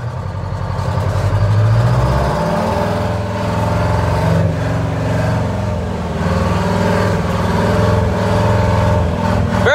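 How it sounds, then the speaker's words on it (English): A Euclid R-13 rock truck's engine runs loud and close with a deep, throbbing diesel drone, revving briefly early on and then settling into a steady rumble. "Not every day you get a ride in a Euclid Rock Truck."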